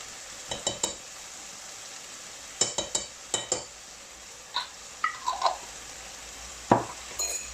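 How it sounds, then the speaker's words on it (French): A spoon scrapes and clinks against a pan while curry chicken stuffing is stirred, the sharp knocks coming in irregular bursts over a faint sizzle, with no talking. "Donc là je vais mélanger ma farce."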